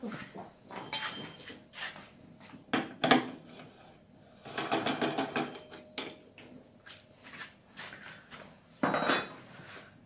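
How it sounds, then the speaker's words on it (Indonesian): A T12 wrench undoes the single fuel-tank bolt on a Honda Tiger motorcycle, giving irregular metallic clicks, clinks and ratcheting scrapes in short bursts with pauses between them, close up and fairly quiet. "ini baut tangki cuma ada satu di sini baut T12 kita buka"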